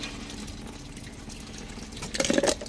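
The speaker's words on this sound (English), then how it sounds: "Dump the rest of the water out of that." Water dumped out of a rock tumbler barrel, heard as a faint trickle that turns into a brief, closer splash and pour near the end.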